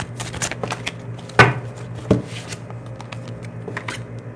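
Tarot cards being shuffled by hand, giving a steady papery rustle with two sharper riffling snaps close by, no talking over it.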